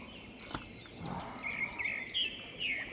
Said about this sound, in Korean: 새소리도 나고.